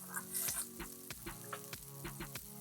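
Homemade cordon bleu frying in a pan, a faint steady sizzle of hot fat with small pops and crackles scattered through it, close and quiet.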